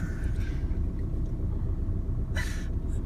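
A car engine rumbles low and steady as the car creeps off from a stop with a learner driver easing the clutch, with a brief hiss near the end.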